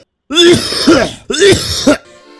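Two harsh, close throat-clearing coughs from a sick person, each loud and raspy with a short gap between them.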